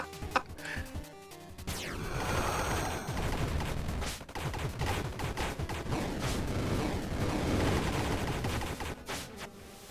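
Rapid weapon fire in bursts from the video game Star of Providence, dense crackling volleys that run almost continuously, fairly loud and layered over game music and effects.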